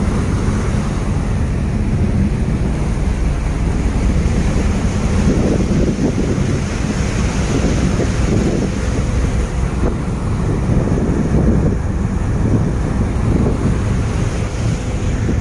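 At the seaside, sea waves wash in a continuous loud roar while wind buffets the microphone throughout, with no voices present.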